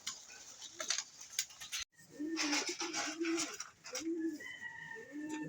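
Pigeons coo softly and repeatedly in a loft, low rounded calls recurring every second or so, with light ticking and clicking noises in the background.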